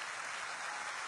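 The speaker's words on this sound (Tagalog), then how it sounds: "Gusto ko lang pakinggan yung pinakamainam yung palakpak para sa Diyos." A church congregation claps for God during worship, a dense, even burst of applause heard alone, steady and fairly bright for about a second.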